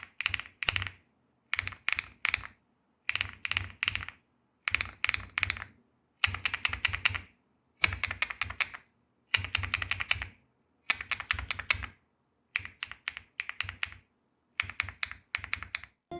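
Mechanical keyboard typed in short bursts of rapid clacks separated by brief pauses, each keystroke crisp with a retro mid-range tone, close and clear with no talking.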